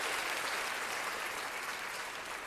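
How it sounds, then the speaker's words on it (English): A crowd applause sound effect plays as a dense, steady wash of many hands clapping, loud and continuous throughout with no voices over it. "It's clapping."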